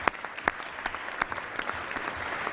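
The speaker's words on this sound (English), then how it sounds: "And I know, and we can applaud Joanne." A legislative House session chamber breaks into applause, scattered claps blending into a steady patter that continues throughout.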